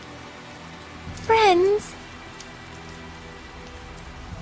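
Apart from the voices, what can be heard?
rain in the video game Tales of Zestiria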